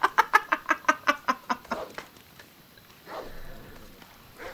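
An attacking chicken in Assassin's Creed Odyssey clucks in a rapid run of about ten loud squawks that taper off, followed by quieter rustling.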